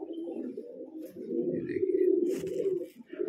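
A pet pigeon coos steadily and close by, a low continuous murmur with a few faint higher chirps over it.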